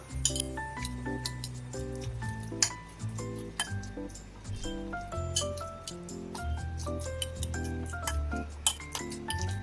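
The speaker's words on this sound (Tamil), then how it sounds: "அதில் நம்ம வேக வச்சு எடுத்து வச்சிருந்த உருளைக்கிழங்கு ஆட் பண்ணிட்டு நல்லா கொஞ்சம் மசிச்சு விட்டுக்கலாம்." Boiled potatoes are mashed in a mixing bowl for pani puri filling, with repeated clinks of a utensil against the bowl over a soft, wet squishing in an irregular rhythm, close and moderately loud.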